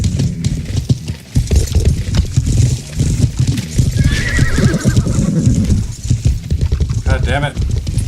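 A horse whinnies loudly amid clip-clopping hooves in the video game Life is Feudal, with players talking over the sounds.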